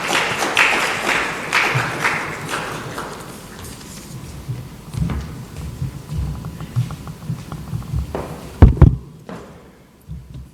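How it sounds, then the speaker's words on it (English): An audience at a fintech event applauds as a speaker takes the stage. The clapping is dense and sustained, then thins into scattered claps with a few louder thumps before fading out near the end. "Ladies and gentlemen, applaud for him as he takes on a stage."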